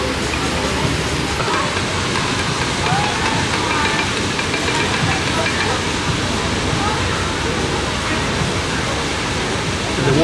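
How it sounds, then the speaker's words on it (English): Water gushing into a canal lock in Camden, London, pours steadily in a loud, continuous broadband roar, with faint voices underneath. "The water now gushing into the lock"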